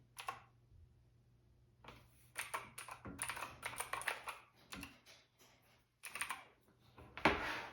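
Typing on a Keychron C2 mechanical keyboard with blue switches, bursts of crisp clicky keystrokes in irregular rapid runs separated by short pauses, close and fairly quiet.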